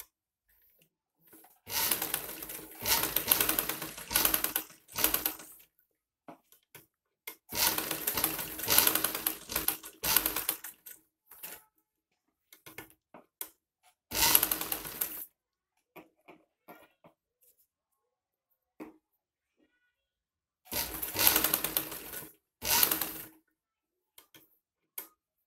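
Sewing machine stitching buckram onto fabric for a high-neck Chinese collar, four separate loud close bursts of rapid stitching with quiet pauses between them.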